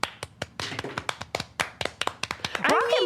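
A short burst of hand clapping, a quick run of sharp, evenly spaced claps close by, ending under a brief bit of talk.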